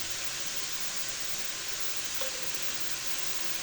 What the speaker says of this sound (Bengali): এবার আমি এটার সাথে সয়া সস দেব, হাফ চা চামচ সয়া সস।